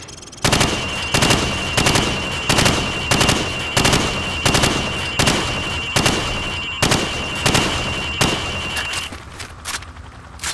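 Rapid gunfire at pop-up targets on a firing range in Call of Duty 4: Modern Warfare. About a dozen loud bursts of shots come at a regular pace, with a steady high tone underneath, then the firing stops and a quieter tail follows.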